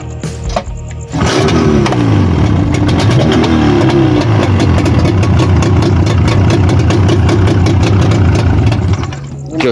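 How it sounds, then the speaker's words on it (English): Boat outboard engine idling to warm up before heading out, a loud steady close rumble that starts abruptly after a brief pause and runs evenly without talk. "So this is basically warm up engine so it gets easier to start when I go out there guys."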